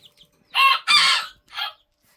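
A serama chicken, the tiny ornamental breed, gives three loud, close clucking calls, two longer ones in quick succession followed by a shorter third, with quiet between.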